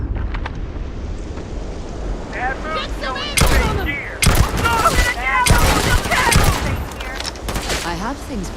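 Rifle fire in the game Starfield: several loud, sharp shots at irregular intervals with one cluster near the middle, mixed with swooshing wind-like effects and game noise.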